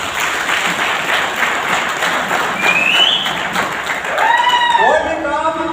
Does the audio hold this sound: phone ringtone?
no